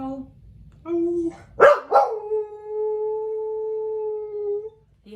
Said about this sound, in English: I love when he's like letting the steam out after he's done howling